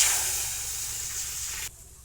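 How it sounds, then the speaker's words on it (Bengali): Water poured into a hot kadai hisses and steams loudly and steadily, close by, then cuts off abruptly near the end, with no talking. "এই যে আমার কড়াই গরম হয়ে গেছে এবারে কড়াইতে জল দিয়ে দেবো"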